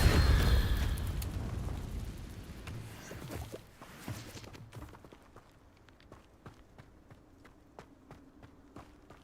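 A Confringo blasting spell in Hogwarts Legacy bursts with a loud explosive boom that rumbles and decays over several seconds. Light footsteps and small crackles follow in the quieter tail.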